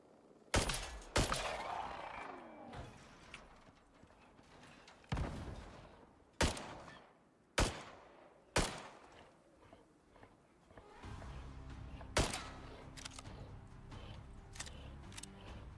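Single gunshots ring out one at a time from a gun in the survival game Icarus, about a dozen sharp cracks spaced irregularly over faint background sound.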